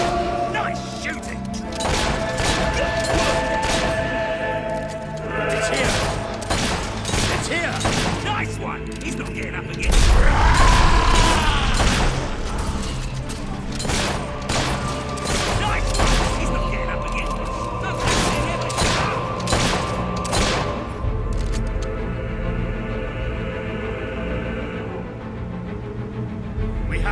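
Gunfire in the video game Fable III, rapid bursts of shots and thuds packed densely over a loud battle mix, with voices calling out over the shooting.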